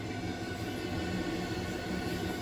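A train running on the rails in Russia gives a continuous, steady rumble with rhythmic rattling of the wheels and cars, heard close up from inside without any voices.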